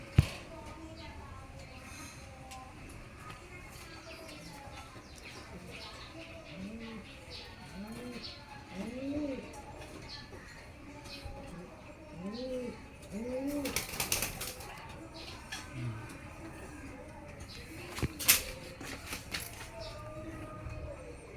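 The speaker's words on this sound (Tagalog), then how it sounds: "Ayan mga updated ko mga kalapate." Month-old young pigeons coo softly in repeated low, rounded calls, with occasional wing flutters and rustling in a quiet, somewhat noisy loft setting.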